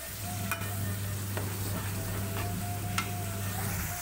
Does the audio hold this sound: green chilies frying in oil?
yes